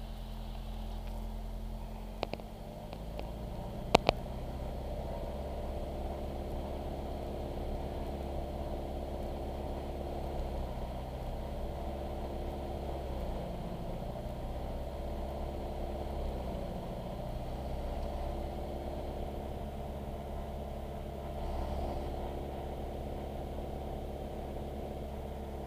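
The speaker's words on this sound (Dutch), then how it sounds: "ik moet even de motor checken doen" A Mooney light aircraft engine idles before run-up with a steady, low drone that does not change, with a couple of sharp clicks early on.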